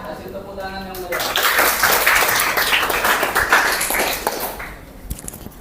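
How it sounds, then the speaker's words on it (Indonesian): Classroom group claps enthusiastically after a student presentation; a voice speaks briefly before lively, scattered clapping builds and continues for several seconds, then thins out. "Ya, kasih tepuk tangan yang meriah."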